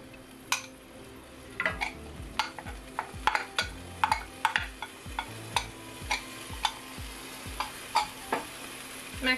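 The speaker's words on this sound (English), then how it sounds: "We're just cooking down the garlic until it becomes fragrant" Garlic cooks in olive oil in a pot, a soft sizzle beneath repeated sharp clinks and scrapes of a utensil stirring against the metal, about a dozen knocks spread unevenly over the stretch.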